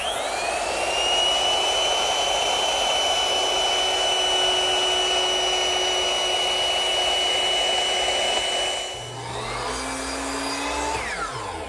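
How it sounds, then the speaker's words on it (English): A power tool whines steadily as it cuts a decorative chamfer along the outside edges of wooden end panels, a loud continuous high-pitched tone that drops and winds down near the end. "on the outside face of the end panels, I'm running a decorative chamfer right along the edge of all 4 pieces"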